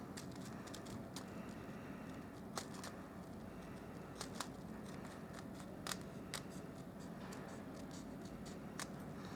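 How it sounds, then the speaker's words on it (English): Scissors trim excess transparency sheet from a flat shaker card in a quiet room, a steady run of faint, close snips and soft crackles of plastic with no talking. "now I've finished trimming off the excess little pieces of transparency"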